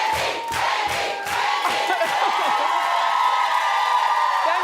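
A studio audience cheers loudly with whoops. At first some claps cut through the crowd noise, then it settles into a steady, sustained roar.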